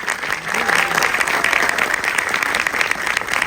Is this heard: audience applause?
yes